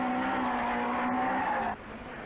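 A rally car in the 1981 Circuit of Ireland Rally, Brookes running second, screams past close by with a loud, high, steady engine note that cuts off abruptly as it moves away, leaving a quieter rumble.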